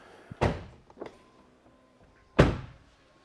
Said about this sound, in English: if I just close the doors on this filthy Model Y